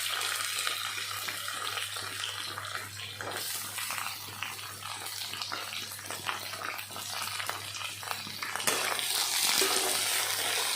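Onion and tomato frying in a pan, a steady broadband sizzle with stirring scrapes running throughout, loud and close, with no talk over it.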